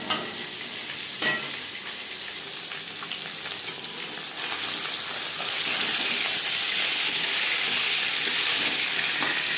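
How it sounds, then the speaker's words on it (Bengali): Pieces of chital fish frying in a pan, a loud, dense, unbroken sizzle close by that swells slightly partway through, with a brief knock near the start. "ভাজা হয়ে গেলে অপর সাইডটা উল্টে দেবো।"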